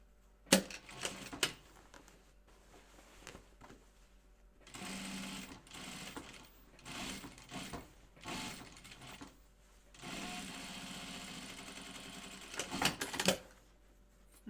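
A sewing machine runs binding onto a wallaby plush in short bursts of fast, rattling stitching, broken by pauses and handling clicks, up close and fairly quiet.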